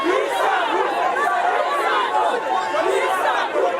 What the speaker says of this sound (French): le sénateur Antonio Cherami a été accueilli par une foule d'ouvriers chauffés à blanc